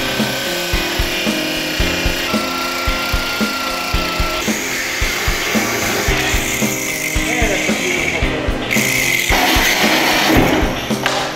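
A DeWalt power tool runs during a snow plow restoration, a loud rhythmic grinding, rasping whir that pulses steadily close up, rising in pitch and intensity toward the end.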